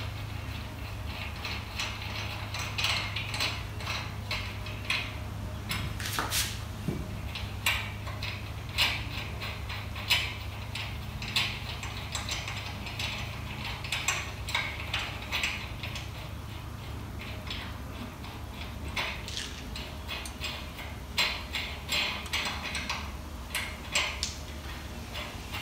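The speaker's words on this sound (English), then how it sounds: "Since they're loose, I'll just take them off with my hand." Loose lug nuts are spun off a Chevy Silverado wheel by hand during a front brake and rotor job, producing faint, scattered metallic ticks and ratcheting clicks against a quiet background.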